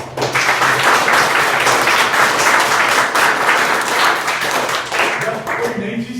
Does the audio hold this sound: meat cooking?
no